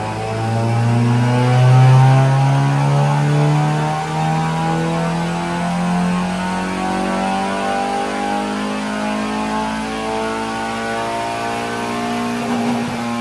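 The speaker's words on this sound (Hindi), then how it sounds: "इस वक्त गाड़ी का बेस रन मारा जा रहा है सारे सामान के साथ ट्यून के बगैर" A Honda FD2 Type R engine with its bolt-on parts but no tune, running on a dyno for a base run: a loud, steady engine drone that rises in pitch as revs climb, then holds a sustained high whine.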